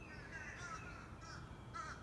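Crows caw outdoors on a cold, sunny day, several harsh calls spaced a fraction of a second apart, moderately close and clear over quiet ambient background.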